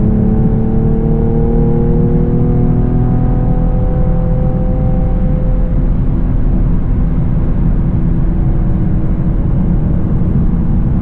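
A Camaro V6 1LE cruises on quiet city streets in Charlotte at night, a steady low engine drone and road rumble with a rising whine early on, continuous and close, no voices.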